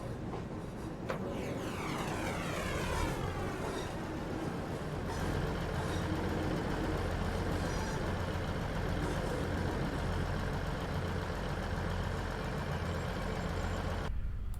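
Diesel engines of a Class 158 train crank and start up in the Train Sim game, a rising whine settling into a steady, loud rumbling idle that continues throughout.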